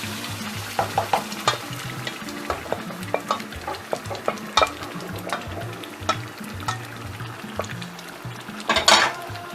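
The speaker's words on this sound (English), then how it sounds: "I'm going to add this gravy to my meatballs before I'll taste" Gravy added to meatballs in a pot of stew, stirred with repeated scraping knocks of a spoon over a soft, steady simmering sizzle, close and moderately quiet with no talking.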